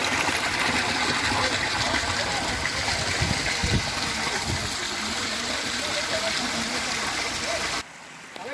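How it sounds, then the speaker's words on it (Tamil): Water gushes steadily from a motor pump while children bathe outdoors at a grove during a Milad festival gathering, a continuous rushing splash throughout with a few louder splashes, ending abruptly. "சிறுவர்களோ மோட்டார் தண்ணியில் மிகவும் குஷியாக குளித்தனர்"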